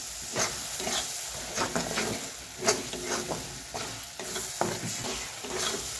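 A green spice mix is stirred and dried in a pan over medium heat, with a soft steady sizzle broken by frequent scraping strokes of a spoon across the pan, fairly close and moderately quiet.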